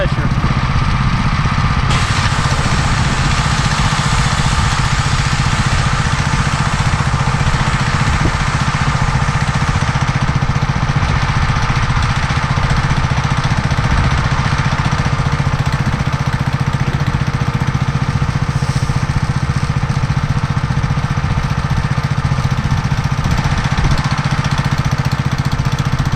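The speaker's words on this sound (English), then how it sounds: "So that's what we're doing now with the higher pressure." A Simpson 3000 psi gas pressure washer runs steadily at high pressure while washing down a van, its loud engine drone and spray holding an even level throughout with no pauses.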